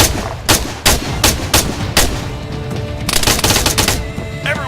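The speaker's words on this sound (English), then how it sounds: "Martinez! Engage that machine gun! Front!" Machine gun fire in Arma 3 cracks out in loud, close bursts of rapid shots, with sharp irregular reports and denser rattling fire toward the end over a background battle din.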